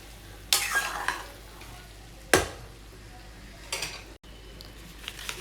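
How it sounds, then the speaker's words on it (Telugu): Ginger chicken fries and sizzles in a pan, with a few sharp scraping stirs and clinks of utensil against metal over a steady, quiet frying hiss. "నెక్స్ట్ ఇలా మధ్య మధ్యలో మిక్స్ చేసుకుంటూ ఫ్రై చేసుకోవాలండి."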